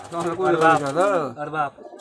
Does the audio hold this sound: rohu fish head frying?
no